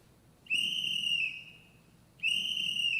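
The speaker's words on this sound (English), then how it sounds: "That ain't a police whistle. That's a sporting whistle." Two sharp, shrill blasts of a sporting whistle blown on a theatre stage during a performance of Pygmalion, each held about a second, the second following after a short pause, clear and alone over a quiet room.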